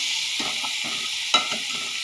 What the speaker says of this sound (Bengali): এইভাবে অনেকক্ষণ নাড়তে হবে, একটু লাল লাল করে ভাজতে হবে উচ্ছেটা আর আলুটা